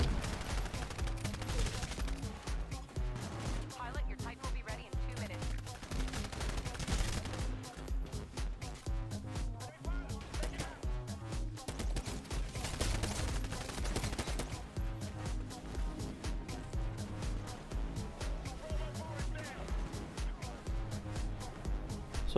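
Rapid bursts of gunfire from an Xbox One multiplayer shooter match, dense repeated shots and machine-gun rattles running steadily throughout at moderate level.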